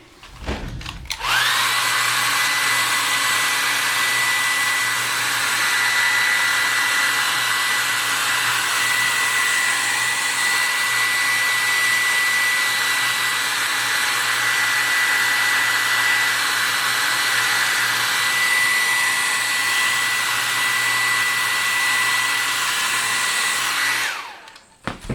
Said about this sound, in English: I'm going to turn on the hair dryer for just a second.